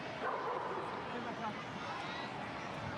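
Dogs barking in a soccer stadium crowd during a Portland Timbers 2 vs Tulsa Roughnecks FC match, yips and bow-wows mixed into dense steady crowd noise alongside ongoing commentary.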